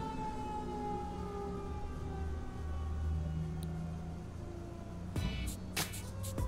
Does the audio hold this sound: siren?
yes